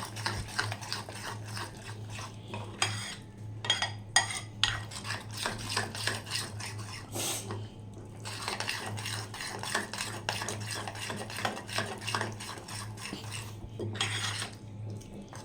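Semolina batter for dhokla is stirred and mixed in a bowl, with a steady run of soft scraping strokes and occasional clinks of a spoon against the bowl, close and fairly quiet.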